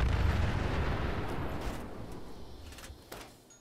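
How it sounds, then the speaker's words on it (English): Fat Man mini-nuke blast in Fallout 76, a deep rumbling explosion tail with dense low boom that slowly decays and fades over a few seconds, no speech. "the explosions need fixed"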